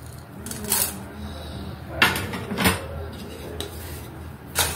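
Cumin and coriander seeds dry-roasting in a pan, with scattered metallic scrapes and clinks of a spoon stirring at intervals over a low steady background.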